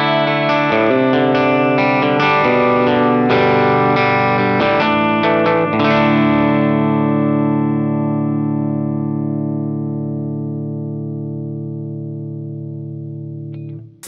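A Shelton TimeFlite electric guitar with Porter pickups plays loud chords through an effects unit. A few strummed changes give way to one long ringing chord that decays slowly, with no voice.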